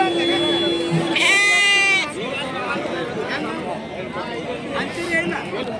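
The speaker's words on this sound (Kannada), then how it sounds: "ಇದೊಂದು ಉಣ್ಣಿ ಮರಿ ಐತೆ ನೋಡ್ರಿ" Lambs bleat loudly and close by at the Aminagad sheep market, one long wavering cry followed by shorter calls, over busy crowd chatter and someone talking.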